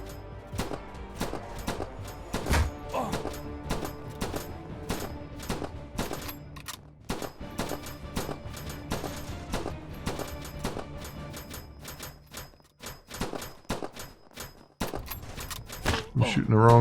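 Gunfire in the video game Interstellar Prime, with rapid bursts of shots cracking in quick succession across the whole stretch, fairly steady and busy under a faint game background.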